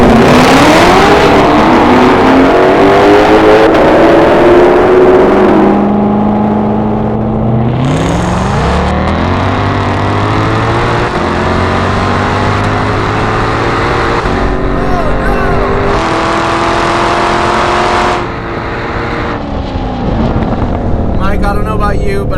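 A Ford Mustang GT500 and a Chevrolet Corvette ZR1 street racing, a loud close engine roar climbing through repeated gear changes, rising pitch steps with brief drops.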